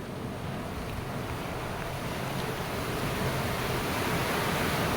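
Water released from a dam at Kadam Deuli village rushes in a steady, broad roar, loud and unbroken throughout with no pauses or voices.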